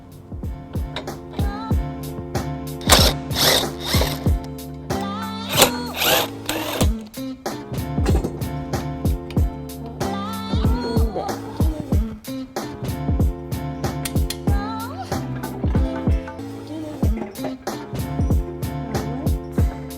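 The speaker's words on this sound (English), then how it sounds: "Now I'm going to remove the bolts and remove my hitch." Rapid, repeated clicking and whirring of a ratchet removing trailer hitch bolts on a 2017 BMW X1, bursts starting and stopping over a steady mechanical hum, close and fairly loud.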